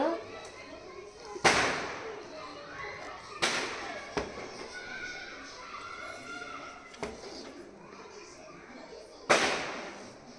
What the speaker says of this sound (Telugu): టపాకాయలు సౌండ్లు వస్తున్నాయి కదా. టపాకాయలు వదులుతున్నారు.